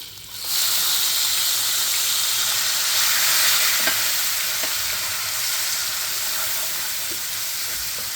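Onion paste dropped into hot oil in a pan for a dhaba-style baby potato dum aloo curry, a loud hiss erupting after a brief quiet start and holding as a steady close sizzle, with a few faint stirring knocks.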